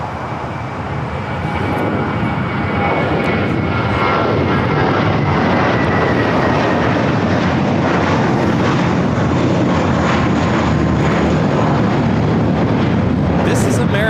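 An American Airlines Airbus A321 jet taking off for Las Vegas, heard as a broad engine roar that builds within the first seconds and then stays loud and steady to the end.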